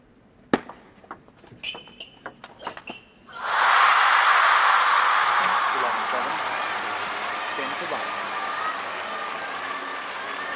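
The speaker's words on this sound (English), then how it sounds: "And so they get to clap first" A table tennis crowd at a World Cup match in Macao breaks into loud, sustained applause that swells suddenly and then slowly fades, following a few sharp ball taps and hits.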